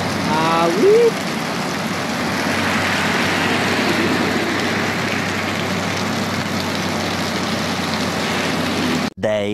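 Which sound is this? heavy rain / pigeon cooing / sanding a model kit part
heavy rain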